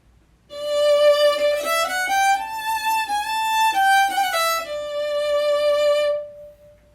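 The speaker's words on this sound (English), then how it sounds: "And this is the sound of the violin with the mute on." A bowed acoustic violin with a mute clipped over the bridge plays a slow, sustained melodic line alone for about six seconds, slightly softer and duller in tone but still clear and close.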